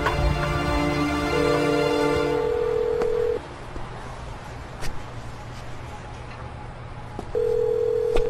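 Steady electronic telephone tones ring out in long sustained stretches, cutting off and then returning near the end over a low background hum.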